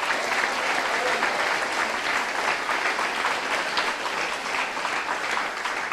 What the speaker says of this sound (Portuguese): Se você crê nisso, aplaude o Senhor.